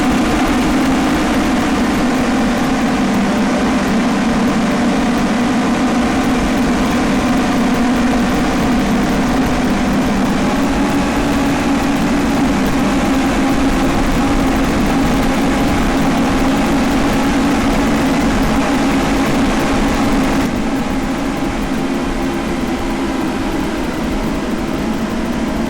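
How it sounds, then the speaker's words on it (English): In a racing video game, a car engine drones loudly and steadily at high revs on the Usui Pass mountain course, a continuous buzzing tone with no talk, dipping slightly near the end. "Listen to that engine revving up at the braking point."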